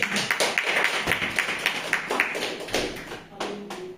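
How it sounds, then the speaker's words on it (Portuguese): Assembleia de Deus congregation in Umuarama clapping in church, a steady run of sharp, closely spaced claps with a fairly even rhythm throughout, with some voices underneath. "As palmas para Jesus"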